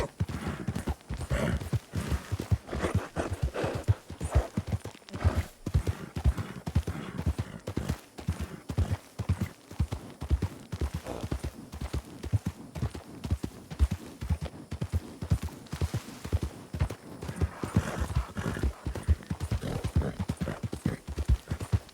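A horse's hooves clip-clop steadily and quickly in Red Dead roleplay, a dense, even run of close hoofbeats that goes on without a break, with no talking.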